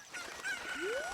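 A cucco chicken in the Ocarina of Time video game gives a brief, squawking cluck with a rising tone, fairly faint, alone without talk.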